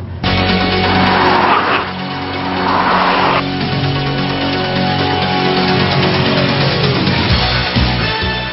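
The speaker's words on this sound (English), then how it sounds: "all you got to do is shift it into sport mode and the car just revs a lot higher" Volvo S60 in sport mode with its engine revving hard, loud and continuous, with surges in the first few seconds and tire or skid noise mixed in as the car accelerates, no voices.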